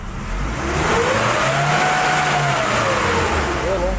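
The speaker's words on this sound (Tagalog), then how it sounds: "Try natin accelerate." A Nissan Navara D40 pickup engine revs up under acceleration with a smooth rising and falling drone, loud and steady, after a low-power fault with a check engine light.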